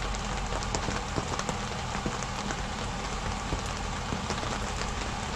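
Heavy, steady rain drumming on an ice fishing tent, a continuous loud patter with scattered sharper drops and no pauses.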